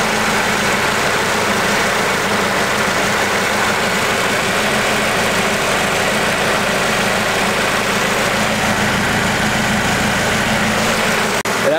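A car engine fitted with a heat-wrapped KTUNED header idles loudly and steadily up close, a constant low droning rumble with no talking and a faint click near the end.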